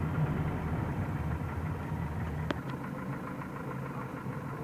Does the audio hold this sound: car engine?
yes